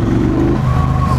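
A Triumph Bonneville Bobber with a 1200 cc twin-cylinder engine revs loudly close by, a low, steady rumble that shifts pitch midway as the revs change, with no talk over it.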